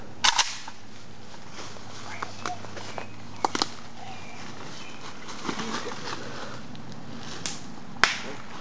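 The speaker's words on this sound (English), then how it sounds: "The gunshot! Gunshot to the Contra." A few sharp, faint gunshot-like cracks, widely spaced over several seconds, sit against a quiet background with small scattered noises.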